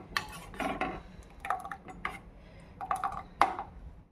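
Spoon stirring a jaggery mixture with cashews in a pan, intermittent scraping and clinking strokes against the metal, close and fairly clear with pauses between bursts, no talk.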